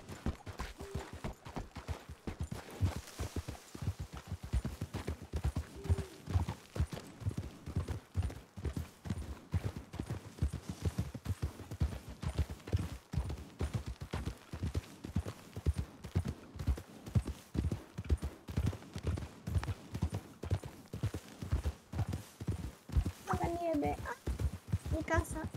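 Horse hooves clip-clop at a steady walking pace in the video game Red Dead Redemption 2, a continuous rhythmic run of close, clear hoofbeats on the ground, with people talking over it throughout.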